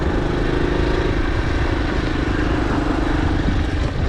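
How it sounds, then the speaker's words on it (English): A motorbike engine running steadily, heard from a DJI Neo drone following the bike, as a continuous droning hum with constant loudness and no voices. "I can just about hear it over the sound of the bike"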